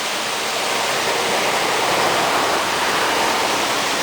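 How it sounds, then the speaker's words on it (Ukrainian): Water runs through cracks in an earthen pond dam with a loud, steady rushing hiss that stays continuous and unbroken throughout, with no voices. "Тільки десь через якісь щілини водичка трошки протікає."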